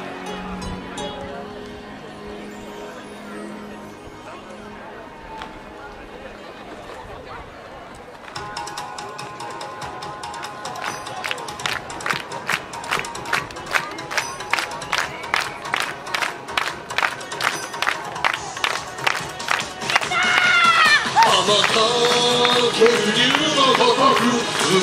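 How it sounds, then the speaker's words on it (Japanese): Audience at a yosakoi dance parade in Yotsukaido clapping along in a steady rhythmic beat that starts partway through and grows louder, with crowd noise and shouts swelling near the end. "さあ、会場の皆さんも"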